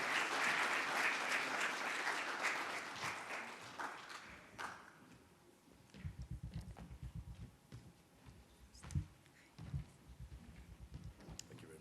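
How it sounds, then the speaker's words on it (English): Applause from the audience at a Namibia public-private forum starts as a full, dense clapping, then thins to scattered claps and tapping that fade away, heard fairly faintly without talk. "A round of applause, please."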